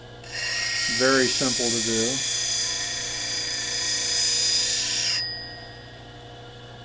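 A convex-grind bowl gouge is rolled freehand against a spinning grinder wheel, giving a sustained high whine with a steady bright hiss that cuts off near the end. Someone speaks briefly over it.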